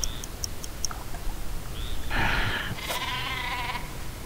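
A super sheep bleats in the video game Worms Revolution, a cartoonish bleat over game sound effects with short ticking clicks at the start, heard alone without talk.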